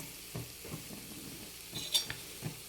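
Ground coconut paste dropped into hot oil with mustard seeds, giving a soft, quiet sizzle broken by a few gentle stirring scrapes and one light metallic clink.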